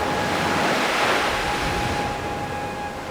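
Open ocean water heaves gently, its waves making a continuous broad wash that stays steady and fairly loud throughout, with no voices.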